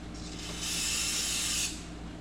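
Brake cleaner hisses from an aerosol can onto the wheel hub of a 2013 Kia Sorento during a front wheel bearing job, one steady spray of about a second, close and fairly loud over a low background hum.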